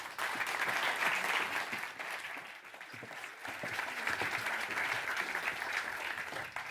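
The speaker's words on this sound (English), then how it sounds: "Come up, give them a round of applause." A room full of audience members claps steadily for speakers coming up to present, a dense, even wash of applause that holds at a constant level throughout.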